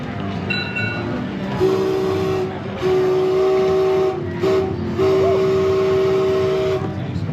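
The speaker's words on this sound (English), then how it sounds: "Oh, that's the railroad." A train rumbles past while its horn sounds several long, steady blasts with short gaps between them, loud and fairly close.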